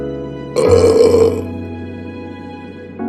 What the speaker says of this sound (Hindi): नवाब साहब की ओर से भरे पेट के ऊंचे डकार का शब्द सुनाई दिया